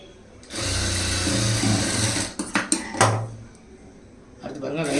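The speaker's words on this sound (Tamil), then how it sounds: "ஸ்ட்ரைட்டாக தைக்க போடலாம்." A sewing machine stitching a straight line on blouse lining fabric, a close continuous motor buzz for nearly two seconds, then a few sharp clacks and handling knocks, with a voice entering near the end.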